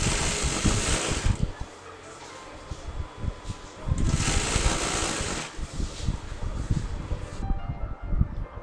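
A sewing machine runs a line of stitching along a double-folded fabric edge for a maxi dress, a steady close mechanical whir that pauses briefly and starts again, with no voices.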